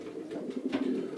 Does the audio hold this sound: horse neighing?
no